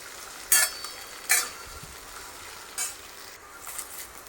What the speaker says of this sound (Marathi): गवार टाकूयात आता. त्यानंतर 1-2 मिनटं आपण छान परतून घेऊयात.